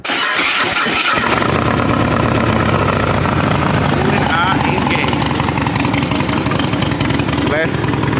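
Harley-Davidson motorcycle with a built 131 engine fires up after a brief start-up burst, then settles into a loud, rumbling, continuous idle close by, with a revving swell near the end.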